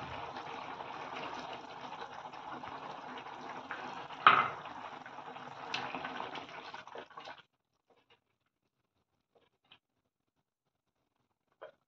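Pitted dates rinsed in water, a close, soft sloshing and trickling with a clink against the bowl midway, then quiet after about seven seconds with a few faint taps.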